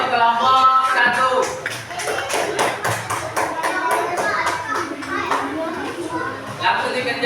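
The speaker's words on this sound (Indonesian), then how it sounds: "Kasih tepuk tangan dulu untuk kelompok 1." A classroom of children claps for a student group, with quick, rhythmic hand claps repeating steadily alongside children's chatter throughout.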